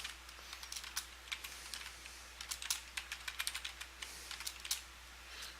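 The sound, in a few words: typing on a computer keyboard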